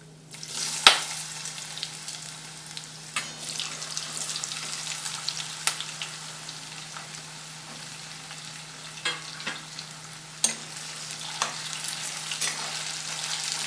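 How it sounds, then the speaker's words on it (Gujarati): Potato slices fry in hot oil with a pinch of asafoetida for a bhindi-potato dish, giving a steady crackling sizzle with scattered sharp pops and spoon scrapes, close and fairly quiet, with no talking. "હવે આ બટાકાની બધી ચીપ્સ છે તેને આપણે તેલમાં સરસ આ રીતે મિક્સ કરી દઈશું"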